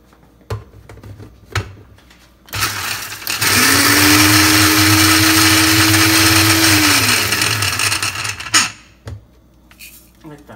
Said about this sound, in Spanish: Vamos a moler en la licuadora.